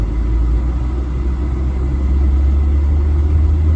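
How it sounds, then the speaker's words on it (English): An Audi TT engine idles with its air conditioning compressor engaged, a loud, steady low rumble that holds evenly close by with no talk. "I heard the engine kick down"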